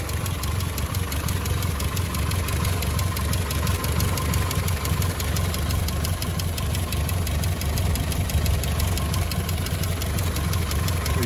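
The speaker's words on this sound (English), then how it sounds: "quick under bonnet video of this 1956 Series 1 86 inch station wagon with its 2 litre engine there" A 1956 Land Rover Series 1 86-inch station wagon's 2-litre engine idles steadily when warm, a close, continuous low rumble with an even mechanical tick and knock running throughout under the open bonnet, with no voices.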